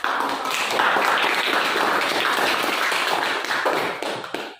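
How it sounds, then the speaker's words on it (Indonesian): A room full of people claps steadily, a dense patter of applause that holds for several seconds and then tapers off. "Kasih tepuk tangan buat"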